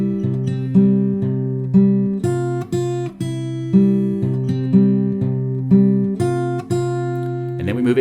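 Fingerstyle acoustic guitar plays the intro of a song: steady plucked bass notes under ringing melody notes in an even, looping rhythm, close and clear with no talking.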